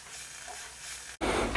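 A Weeden 38 model steam engine runs under steam with a continuous airy hiss, broken by a brief cutout before a louder, brighter burst of hissing steam resumes close by.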